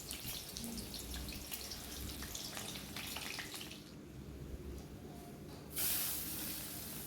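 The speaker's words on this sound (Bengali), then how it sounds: "এদিকে দেখো তেলটা গরম হয়ে গেছে, তেলের মধ্যে আলুগুলো দিয়ে দিলাম।" Potatoes fry in hot oil with a steady crackling sizzle, then a sharper burst of hissing near the end; no one speaks.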